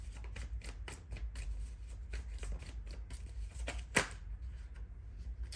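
Tarot cards shuffled in steady, rapid riffling bursts during a reading, close and fairly quiet, with a sharper snap near the end and no speech.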